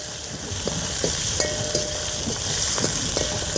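Whole onions fry in oil for a Kerala-style dry fish curry cooked on a boat at sea, giving a steady, even sizzle with a few light clinks and taps, and no speech.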